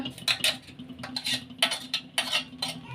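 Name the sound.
stirring ground mint into sugar syrup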